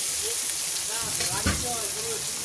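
Ginger and tomato frying in hot oil in a home kitchen, a soft steady sizzle with faint stirring scrapes and a brief bump midway.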